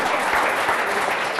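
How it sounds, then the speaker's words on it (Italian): Steady applause from an audience at a local TV event, a dense continuous wash of clapping that stays loud and even throughout without any voices rising above it. "Fategli un applauso"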